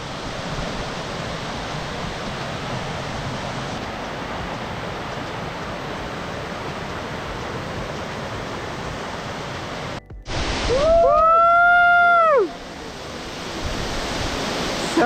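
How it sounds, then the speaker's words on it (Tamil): The 551-foot Hebbe Falls waterfall in India's Chikmagalur hills pours as a steady, broad rush of water that continues throughout, broken briefly by a short loud tonal sound near the end. "551 அடி உயரத்திலிருந்து தண்ணி குதிச்சுட்டு இருக்கு"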